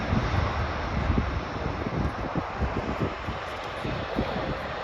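A C-17 transport aircraft lands at Dover Air Force Base, Delaware, during an airshow with spoilers up and thrust reversers engaged. It gives a steady, loud, broadband roar of engine and rushing wind with gusty mic buffeting and no talk.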